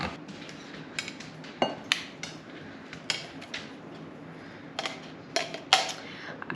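Metal whisk scraping and clinking against the inside of an opened can of pumpkin puree, in a series of irregular sharp metallic scrapes and taps at close range with quiet pauses between.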